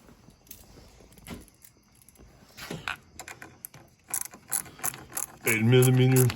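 Ratchet wrench with an 8mm socket being worked on a van battery terminal, a series of quick clicking ratchet strokes that build to a dense, loud burst near the end, with no voices.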